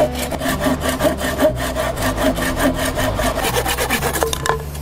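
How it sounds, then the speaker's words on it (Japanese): A rusty hand saw cuts through thick driftwood bamboo outdoors in a survival setting, rasping in steady rhythmic back-and-forth strokes, close and loud, with no talk. "いつの間にかノコギリも錆びてきました。"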